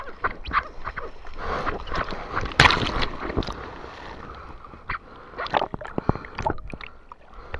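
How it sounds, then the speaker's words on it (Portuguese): Ocean waves at the Pico das Almas surf spot in Ceará keep up a rough, rushing wash, with scattered sharper splashes and breaking bursts through the stretch. One stronger surge comes near the middle. "olha as ondas!"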